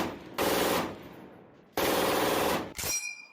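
An MG42 machine gun fires in long continuous bursts in a war film, two sustained loud rattling streams separated by a pause, then a brief final burst.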